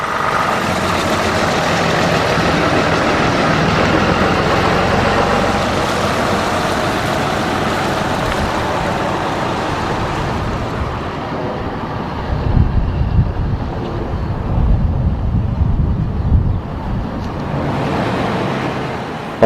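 Classic London Routemaster bus RMC 1497 arrives at a Potters Bar open day in 2011, a steady diesel engine rumble with heavy wind buffeting the microphone, the engine growing louder and rougher as it pulls in near the end.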